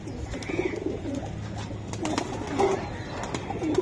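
Soft cooing from a Kaldom pigeon at a pigeon farm repeats a few times against a steady background murmur, fairly faint and close by.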